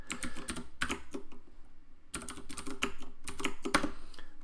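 Rapid keystrokes on a computer keyboard clatter close and clear in uneven bursts, with a short pause midway before quick typing resumes.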